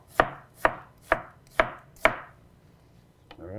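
An onion chopped small with a knife on a board, five crisp, evenly spaced knocks close up, then a pause and a couple of softer taps, with no talk.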